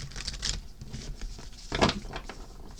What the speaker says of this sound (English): All right, let me just give it a quick shuffle.